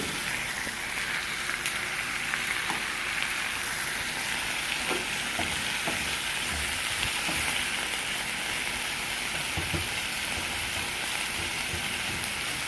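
Red onions fry in a pot for a spicy chicken stew, a steady close sizzle running throughout with scattered light scrapes and taps from stirring, no talking.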